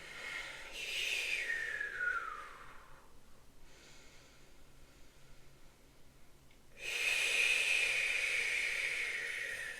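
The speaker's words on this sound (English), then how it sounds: "breathing in through the nose, filling up, blowing out through slightly pursed lips" A slow, breathy inhale through the nose is followed by a long, soft hissing exhale through pursed lips, then a quieter pause before another steady airy exhale starts.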